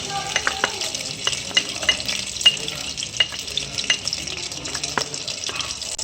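Oil frying in a pan as dal mash is cooked, a steady bright sizzle with scattered sharp crackles and spatula scrapes, close and clear with no talking.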